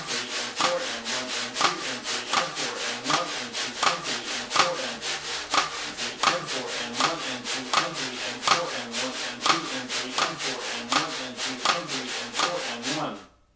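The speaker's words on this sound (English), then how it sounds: "I got my cross stick, just like we did before, and I'm gonna do the scraping" A wire brush scrapes a snare drum in a steady bossa nova pattern, with cross-stick clicks on the rim, an even repeating groove played close for about thirteen seconds and then stopping abruptly.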